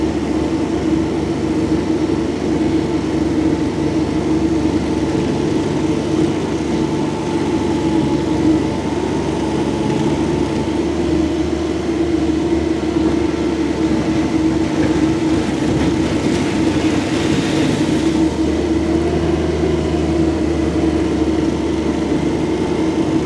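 Kubota SCL1000 mini rubber track skid steer loader running with a steady, loud diesel drone and the rumble and clatter of its rubber tracks as it moves, continuous throughout without talking.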